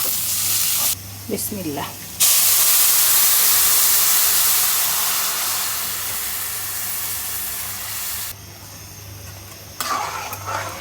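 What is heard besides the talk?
ginger and garlic paste frying in a pan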